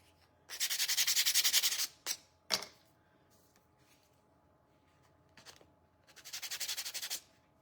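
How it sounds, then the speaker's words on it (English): Hand sanding of craft pieces for a Thanksgiving turkey project, heard as two long, steady stretches of brisk scratchy rubbing plus a few short strokes in between, close and loud with no talking. "We're sanding all these pieces, okay?"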